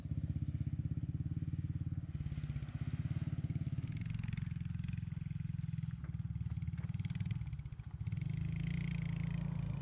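A Royal Enfield Classic 350 single-cylinder engine thumps steadily while being ridden, a deep, even rumble with brief throttle changes and a short dip near the end.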